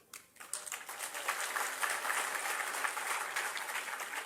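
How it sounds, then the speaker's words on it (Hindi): Steady applause from a large audience rises at the end of a speech and holds for several seconds, loud and dense, with no talking over it. "तालियां भी बजाई आपने"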